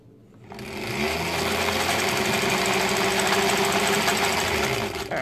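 Sewing machine piecing quilt fabric, starting after a brief quiet moment and then running at a fast, steady, loud mechanical whir with a rapid rhythmic stitching pulse, stopping at the end, with no talking.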